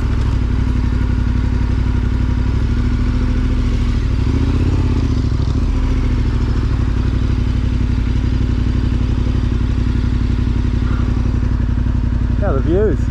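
A KTM 1290R adventure motorcycle engine pulls steadily uphill in second gear on a dirt road, a loud continuous mid-pitched drone with slight pitch shifts and some clatter near the end.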